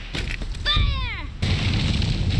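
Gunfire in the Valkyria Chronicles video game: a loud burst of rapid shots, then a descending whine, then a heavy sustained rumble of firing, with a voice talking briefly over it.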